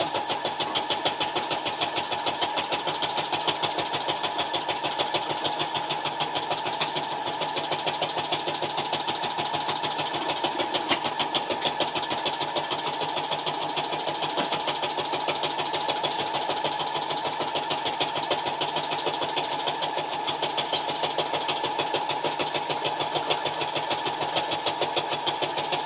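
A sewing machine runs steadily while stitching a memory quilt, its motor giving a continuous, even mechanical whir with rapid needle chatter that holds at close range for the whole stretch, with no talking.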